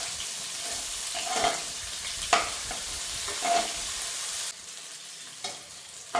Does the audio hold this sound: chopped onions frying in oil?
yes